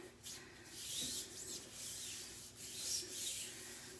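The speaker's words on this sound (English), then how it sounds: "I'm going to take my mixer, my roller, and I'm going to rub it down" A fondant roller being rubbed down with shortening by hand, soft repeated rubbing and swishing strokes at close range, rising and falling in a loose rhythm, with no talking.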